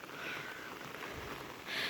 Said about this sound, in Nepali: यस्तै हुस्सु आइरहेको छ पानी परेर हरिबिजोग छ